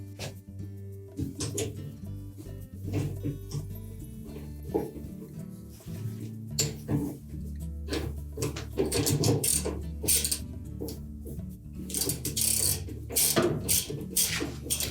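Tightening the bolt on a Whirlpool washer agitator shaft while holding the agitator still gives repeated ratcheting clicks and metallic mechanical rattles, close and steady, growing busier toward the end.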